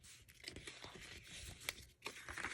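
Stiff paper card stock is folded and creased along its score lines, giving close, crisp crinkling and crackling bursts in quick succession with a short pause before a final run of rustling.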